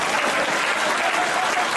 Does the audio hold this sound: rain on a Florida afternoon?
no